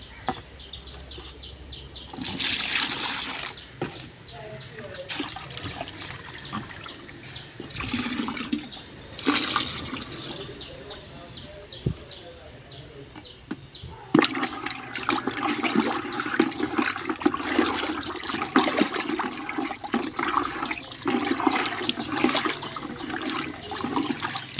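Thick slurry of groundnut cake fertiliser mix is poured into a bucket, a wet sloshing and splashing that comes in bursts with pauses between, moderately close and with no talk.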